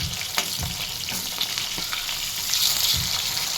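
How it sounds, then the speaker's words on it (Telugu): Fish fries in a hot pan with a steady, close sizzle, broken by a few sharp spatters and scraping stirs as the pieces are turned over. "ఇలా ఒక సైడు ఫ్రై అయ్యాక తిప్పుకోవాలి"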